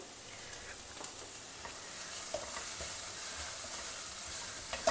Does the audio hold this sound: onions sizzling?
yes